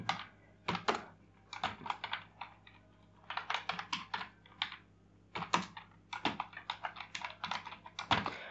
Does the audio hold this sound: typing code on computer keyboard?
yes